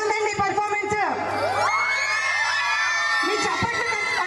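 An audience at a Vinayaka Chavithi residency celebration reacts after a performance with a burst of cheering, whoops and children's shouts. It is loud and close, with a long rising-and-falling shrill voice sweeping over the crowd noise.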